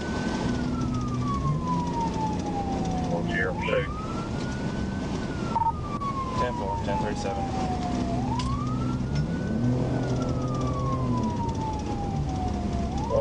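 A police car's siren wails in repeated rising and falling cycles close behind a BMW on a westbound highway, with engine and road noise underneath and brief radio chatter.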